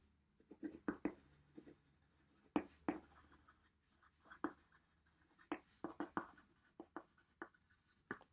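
A pen scratches across paper in a very quiet room, making soft, irregular strokes and taps that come in short bursts and pauses, with no voices.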